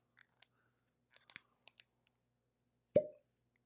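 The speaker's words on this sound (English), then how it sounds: "that was a good cork pop" An Old Forester bourbon bottle gives up its cork with a single sharp hollow pop, preceded by a few faint scattered clicks and taps in an otherwise quiet room.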